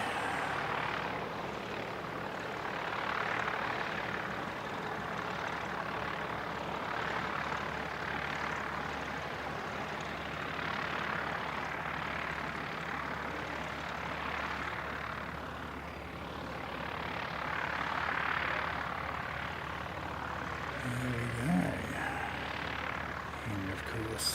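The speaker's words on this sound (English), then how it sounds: "there's a student pilot practicing on the main runway" A student pilot's light aircraft practices on the main runway at an aero club airfield, its engine a steady, distant drone that swells and fades in slow waves for the whole stretch.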